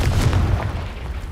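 A Confringo blast spell fires in Hogwarts Legacy as one loud, deep, sustained boom that rumbles steadily with little decay.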